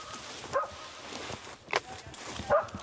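A small hunting dog barks three times, distant and spaced apart, at a wild boar in its wallow during a boar hunt in the woods, the yaps faint against the outdoor background.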